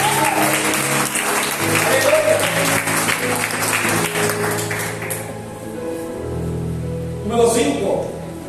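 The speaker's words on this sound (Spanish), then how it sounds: "Un aplauso al que vive." A church congregation breaks into loud clapping for a few seconds as a speaker's voice carries over it, and the applause fades into a sustained musical tone and resumed talk.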